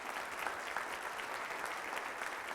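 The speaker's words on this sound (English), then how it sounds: "Let's give another round of applause to the board members" Steady, moderately faint applause from an audience at a keynote address honouring board members, an even wash of many hands clapping throughout a short stretch with no talking.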